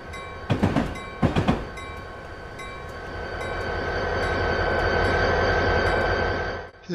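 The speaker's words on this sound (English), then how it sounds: "Hit the bell and we're coming into the Metro Rail transfer station." Tri-Rail commuter train in Train Simulator 2020, on a Florida run from Hollywood to Hialeah: two short bursts of clatter open, then a steady, swelling rolling rumble and hum holds alone to the end.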